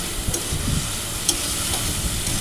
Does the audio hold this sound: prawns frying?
yes